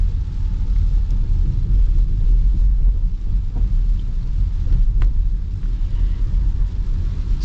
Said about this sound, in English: I can actually get up and get a little bit of a boosty acceleration for you guys